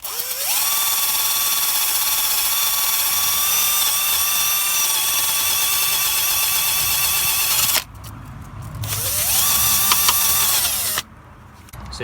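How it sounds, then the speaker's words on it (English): An electric wire wheel whirs loudly at a steady high pitch while cleaning a lubricated outer track rod end on a Nissan Qashqai. It stops abruptly, then spins up again in a second burst. "I'm just going to lightly douse that with lubricant, and I'm going to wire wheel it."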